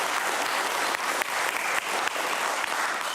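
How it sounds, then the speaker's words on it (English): A conference audience at devops Amsterdam 2022 gives a round of applause for the organisers, a dense, steady burst of many hands clapping, close and sustained with no pauses. "please, you can give them a round of applause for making this possible."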